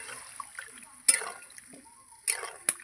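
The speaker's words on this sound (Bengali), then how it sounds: "এবার আমি জল দিয়ে দেবো।" Water poured into a pan of potato and fish curry while cooking, giving soft splashes and a few sharp spattering bursts, close and moderately quiet.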